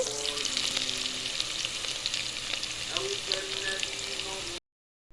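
Country-style spinach soup with tomatoes fries in a pan, crackling and sizzling loudly and continuously with stirring, before cutting off abruptly into silence.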